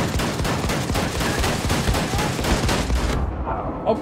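Shotgun fire in the shooter Wolfenstein 2, a rapid run of loud, heavy blasts in quick succession for about three seconds before cutting off to near silence.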